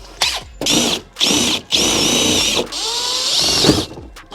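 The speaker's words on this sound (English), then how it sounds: "Let's drill a few holes for where the wiring needs to poke through." A power drill whirs in several bursts, drilling holes for wiring in a 12V camping-light setup, starting and stopping repeatedly, loud and close, with the last run longest and slowing at the end.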